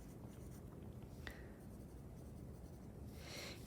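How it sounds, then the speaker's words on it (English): A pencil writes a first name and last initial on paper, giving a faint, close scratching of short strokes with a sharper tap partway through. "I'm going to write my name on the right side, on the right corner."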